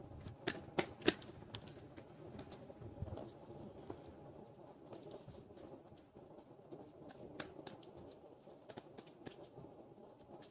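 Tarot cards are pulled and shuffled in a quiet room, giving soft, rapid papery flicks and taps in uneven bursts, close and faint, with no talking.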